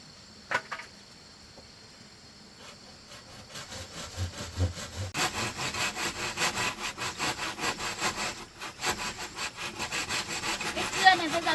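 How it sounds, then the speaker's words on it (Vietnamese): A dull hand saw cuts through bamboo outdoors, first with a few scattered scrapes and knocks, then settling into a steady rhythmic back-and-forth rasp of strokes at moderate volume, with faint insect chirping in the background. "Cái cưa này bây giờ cùn lắm"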